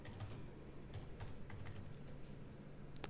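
Computer keyboard keys tapped steadily while an address is typed into Notepad, a close, continuous patter of light clicks with a few sharper strokes, no voices.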